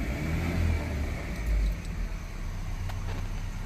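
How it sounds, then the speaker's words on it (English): Engine of a 1996 Ford Ranger, already idling high after a DPFE sensor replacement, rumbles low and steady up close, swelling briefly as it is revved before settling back. "So if we rev it,"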